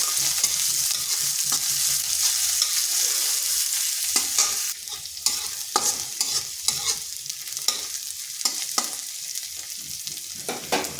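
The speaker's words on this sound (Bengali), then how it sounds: "পেঁয়াজটা হালকা ভেজে নিচ্ছি" Chopped onions fry in a pan after cumin seeds hit hot oil for a Bengali semolina dish, giving a steady close sizzle with frequent scraping stirs of a spatula throughout.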